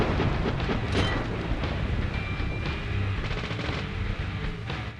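Rapid bursts of gunfire in the Deadly Premonition video game, loud and dense, layered over a constant rumbling game soundscape with no pauses.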